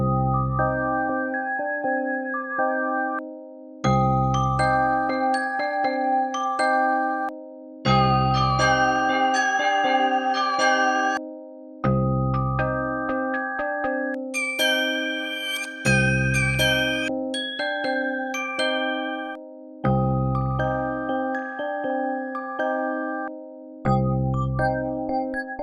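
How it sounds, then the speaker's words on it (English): Bright synthesized bell tones from AI music software play a looping melodic pattern in repeated phrases over a deep bass note, clear and alone with no talking. "So those are some of the bell sounds."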